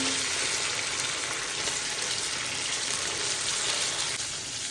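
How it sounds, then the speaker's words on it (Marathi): Green masala with raw coconut sizzles steadily in a pan for a pomfret curry, a dense continuous frying hiss filling the whole stretch with no voices. "आपण खोबरं कच्च देतो त्यामुळे आपण जरा बऱ्यापैकी चांगलं परतून घेऊया"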